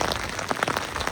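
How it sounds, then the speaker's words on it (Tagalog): Steady rain falls outdoors in Japan, a dense continuous patter of drops on surfaces, close and fairly loud throughout the short stretch. "Umuulan na nga. Umuulan."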